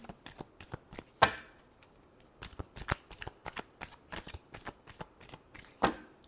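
Tarot cards are shuffled close up in a quiet room, a run of crisp riffling and soft slapping bursts with short gaps between them, and a couple of louder snaps along the way.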